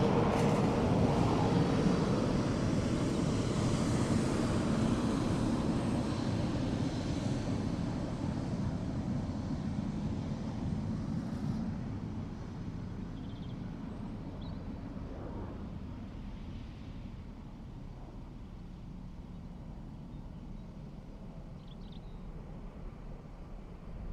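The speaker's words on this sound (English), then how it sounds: "Ryanair down. Here, the reverse thrusters engaged." A Ryanair airliner landing at Dublin Airport with reverse thrust engaged, a loud, broad jet roar that slowly fades into a distant rumble over about twenty seconds, with no talking.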